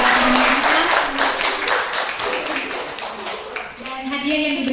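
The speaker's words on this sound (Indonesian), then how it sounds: "Sekali lagi kita berikan tepuk tangan yang meriah kepada pemenang kita." Dense, continuous clapping from an audience applauding competition winners at a museum vlog contest award event, steady and loud throughout with a voice speaking over it.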